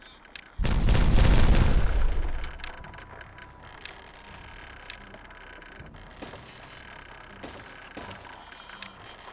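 A loud, deep explosion goes off in the video game Timberborn and rumbles for about two seconds before fading, followed by quieter mechanical clicks and scattered small taps.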